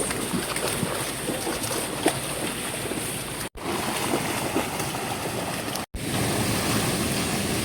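Rushing water at a river, a steady broadband wash with constant turbulent flow throughout, fairly loud and close, interrupted by two brief cuts.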